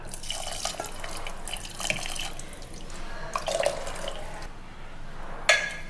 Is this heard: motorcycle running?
no